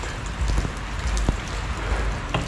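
Steady rain patters down in a continuous wash, with a few louder drops or knocks standing out against the constant hiss.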